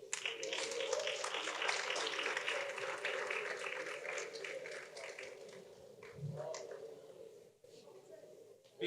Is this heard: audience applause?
yes